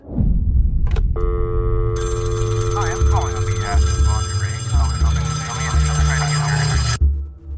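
A telephone rings loudly and steadily in a repeating electronic pattern, with low background sound and faint voices underneath, then cuts off abruptly.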